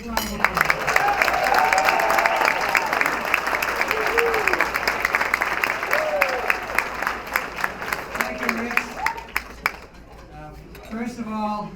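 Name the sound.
audience applause for hall of fame inductee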